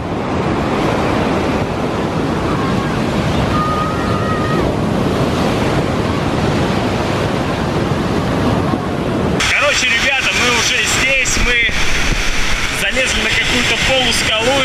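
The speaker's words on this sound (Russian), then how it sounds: "Волны просто дичайшие." Heavy stormy surf roars and crashes continuously below a sea cliff with a lighthouse, with strong wind buffeting the microphone, and a voice is heard briefly over the noise.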